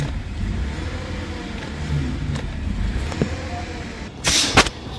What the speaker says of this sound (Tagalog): Here, as I'm revving the engine, isn't responding.